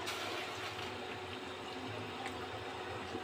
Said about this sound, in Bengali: এটার মধ্যে এখন আমি একটু পানি দিয়ে দেবো।